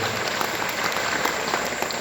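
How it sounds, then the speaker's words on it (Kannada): Audience at a Basava Purana gathering breaks into loud applause, a brief, dense burst of many hands clapping at once, close and continuous. "ಅವರೆಲ್ಲರಿಗೂ ಒಂದ್ಸಲ ಜೋರಾದ ಚಪ್ಪಾಳೆ."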